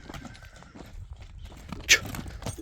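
A young bay horse with a blaze is walked uphill at a sale, its hooves clopping faintly in an uneven rhythm against quiet outdoor background noise.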